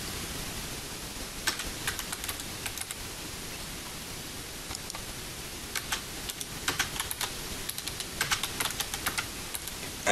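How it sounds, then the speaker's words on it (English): Keystrokes on a computer keyboard while form fields are filled in, coming as scattered short bursts of quiet clicks over a steady hiss, with no talking. "We can type in these fields."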